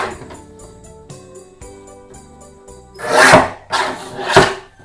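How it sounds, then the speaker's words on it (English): A paper guillotine slicing through card strips, heard as a few loud, close scraping swipes of the blade near the end, following quieter handling and tapping noises. "Back with the guillotine. I'm just going to cut 3 strips, roughly 1 inch"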